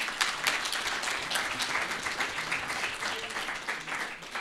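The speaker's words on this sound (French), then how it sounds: "je vous demande d'applaudir nos intervenants quand même" An audience at a business creation breakfast talk applauds the speakers, with dense, lively clapping that holds steady throughout.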